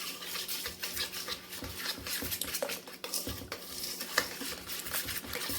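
Meatloaf mixture with breadcrumbs being stirred in a bowl, heard as uneven wet squelches and scrapes with occasional sharp clinks of a utensil against the bowl. The sound is close and fairly quiet and continues with no talking.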